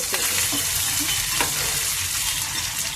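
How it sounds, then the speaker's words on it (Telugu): Curry leaves and onions frying with flat beans in a pan, a dense continuous sizzle with light stirring scrapes, close and steady. "కొంచెం కరివేపాకు కూడా వేసుకుంటాము. ఆనియన్స్ కూడా వేసేస్తున్నాను."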